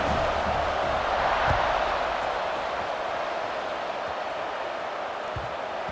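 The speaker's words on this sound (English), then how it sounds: "this crowd now ready to get behind them" Steady wash of stadium crowd noise in EA Sports College Football 26 before a kickoff, a broad constant roar heard from a distance, with no distinct cheers or speech.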